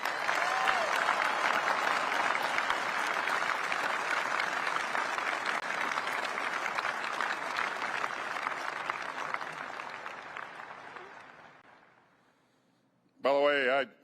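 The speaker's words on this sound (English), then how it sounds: "let's give the entire workforce a round of applause" Long, dense applause from a large crowd honoring the B-21 Raider workforce at the bomber's unveiling ceremony, steady for about ten seconds before fading to near silence, then a brief burst of voice at the end.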